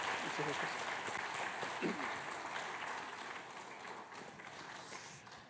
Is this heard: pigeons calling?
no